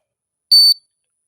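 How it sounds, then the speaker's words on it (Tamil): An RF433M 12V one-channel wireless remote control switch sounds its buzzer once, a single short, clear, high-pitched beep standing alone in silence. "இப்போ அவர் போய் ப்ரெஸ் பண்ணும்போது இங்கே சவுண்ட் அடிக்கும்."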